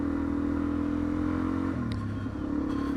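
A Suzuki DRZ400E motorcycle cruises along Chettle Road with a steady engine drone, then the pitch drops as the rider eases off, all close and continuous with no voices.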